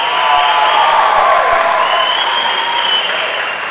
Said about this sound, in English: another round of applause for these two fighters.